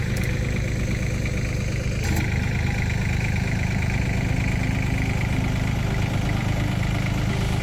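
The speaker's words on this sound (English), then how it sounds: "So we're going to use a tractor." A tractor engine runs steadily and loudly while it backs up to pull a sheep-paddock fence line taut. The mid-pitched drone is continuous and close, and no one speaks.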